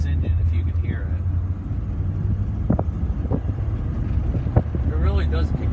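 A 1966 Thunderbird weighing 4,500 pounds, its engine rumbling low and steady while driving on a road, with wind noise and a person talking over it throughout.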